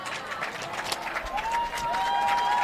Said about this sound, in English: The home fans here at Davis High School on their feet, cheering on their team as the clock winds down.